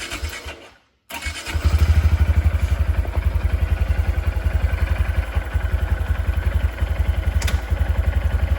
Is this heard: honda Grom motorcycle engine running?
yes